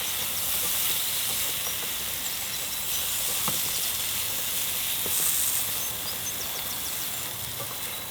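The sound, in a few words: spices sizzling while cooking off in a pan in the woods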